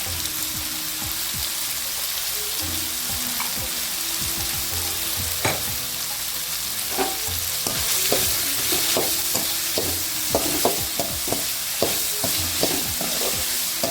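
Ridge gourd and tomato sautéing in a pan, a steady close sizzle with frequent scraping and stirring clicks that grow denser toward the end, with no talk.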